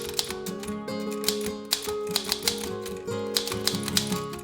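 Keys strike on a vintage typewriter in an irregular patter of sharp clacks, close and distinct over soft background music.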